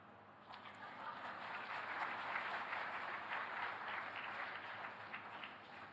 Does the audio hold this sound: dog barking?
no